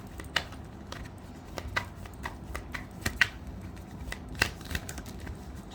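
Tarot cards being shuffled and drawn, giving quiet, irregular papery clicks and snaps close by with soft rustling between them.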